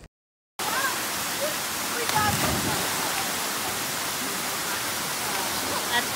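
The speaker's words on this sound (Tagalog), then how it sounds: "Ito yung falls na napakagandang tingnan kanina" A waterfall roars in a steady, dense rush close by, starting after a brief silence and continuing unbroken to the end, with faint voices now and then.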